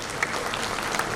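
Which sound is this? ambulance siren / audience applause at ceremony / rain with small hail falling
audience applause at ceremony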